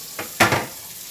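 Liver frying in a pan in a home kitchen, with a short burst of sizzle and a stir or utensil scrape heard up close, fairly faint.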